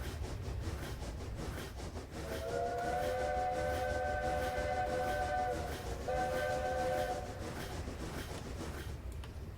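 A locomotive whistle in a train-driving video game sounds as two long, steady blasts separated by a brief break, over a constant low rumble of the moving train, with no talking.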